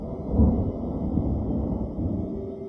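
Deep rolling thunder rumbles through a lightning storm, a sustained low roar that swells early and stays dense and loud for the whole stretch, with no voices.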